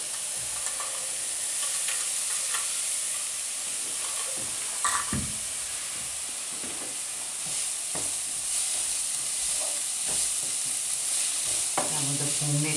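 Vegetables with red pepper fry in a pan while being stirred, a constant loud sizzle and hiss with scraping, clattering stir strokes breaking through at irregular moments, close up and without speech.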